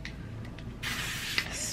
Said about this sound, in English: I'm gonna go ahead and grab my Got To Be spray.